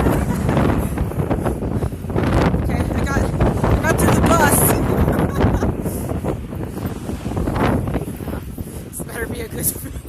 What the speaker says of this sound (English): it is cold and it is windy